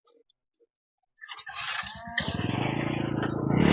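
A live chicken carried along during an inspection gives a pulsing, harmonic fowl call that starts after a brief click and grows louder and steadier, close by, with no talking.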